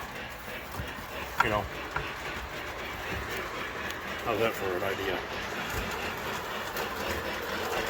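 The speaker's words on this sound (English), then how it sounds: "So the train comes around" A small train clicks and clatters steadily along a track nearby while a person talks over the running sound.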